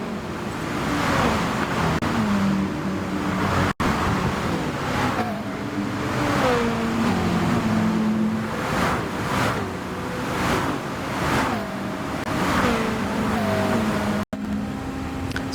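Racing car engine heard from on board in a racing video game, running down the Camel Straight toward Lecum: a loud, continuous engine drone with repeated rising and falling pitch sweeps as it shifts through gears, no talking.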